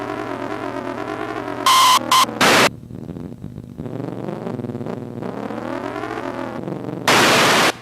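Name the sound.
1970s arcade racing video game sounds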